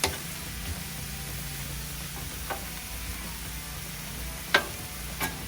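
Onions frying on a Blackstone griddle give a steady, soft sizzle throughout, with a few brief clicks and scrapes from a spatula rising above it. No one speaks.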